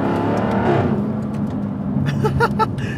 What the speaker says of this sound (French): On entend vraiment le côté rauque du V8 de chez Jaguar